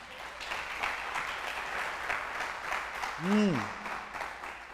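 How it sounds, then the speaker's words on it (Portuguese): Church congregation applause during a sermon, a soft, sustained patter of clapping at a distance, with a brief tonal sweep from a voice or instrument rising near the end. "Dá um aplauso a Ele aí."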